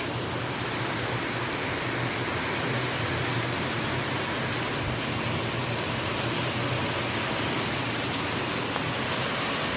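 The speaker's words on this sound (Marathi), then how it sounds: "तो पाऊस तर अजून जरा स्पीडनं पडायला लागला" Heavy rain pours down during days of flooding, a dense, steady, loud roar of falling water with no break over the whole stretch.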